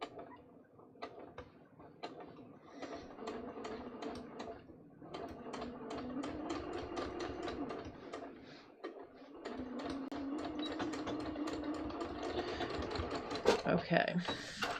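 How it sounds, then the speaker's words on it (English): A sewing machine runs in bursts while stitching the crotch seam of a pair of pants, with a rapid mechanical needle clatter, a short pause and then a longer steady run, close and moderately loud. "now you can see I finished stitching the crotch"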